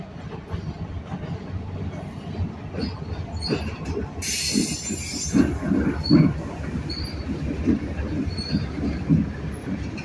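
Freight train rolling past with GE markings on the trucks, wheels squealing and rails clicking steadily, loud and close for the whole stretch, with a brief hiss partway through.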